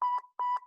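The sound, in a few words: beep sound effect representing a brain signal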